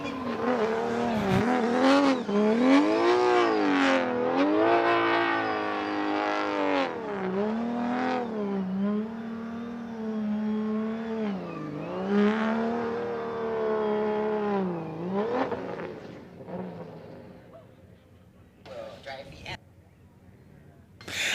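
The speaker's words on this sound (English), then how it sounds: "Next up, Michael Essa Autosports, Achilles tire, BMW M3." A BMW M3 drift car on Achilles tires makes a Formula Drift qualifying run in Orlando, its engine revving hard in long rising and falling sweeps with tire noise, under continuous loud commentary.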